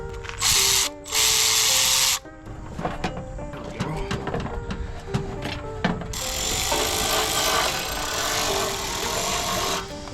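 Ratchet cranking an 8mm bolt on a cold air intake in a 2009–2018 Ram Hemi engine bay, with close, rapid clicking and rattling pawl bursts, mixed with scraping and handling noise and no speech.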